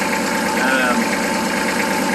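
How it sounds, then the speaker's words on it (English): The diesel engine of a Kubota L3200 tractor, which had been losing power, runs steadily with an even, continuous hum and slight vibration, close and fairly loud with no talking. "I think this tractor is going to run pretty smooth."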